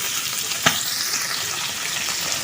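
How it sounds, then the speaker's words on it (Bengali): Hilsa fish frying in oil in a pan, a steady close sizzle throughout with one brief sharp pop near the start, no voices. "এই যে ভাজা, মনে হচ্ছে যে ভাজা হচ্ছে"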